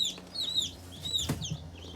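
Newly delivered chicks, meat birds plus one Brahma, peep in high, repeated chirps close by, overlapping and continuous without pause.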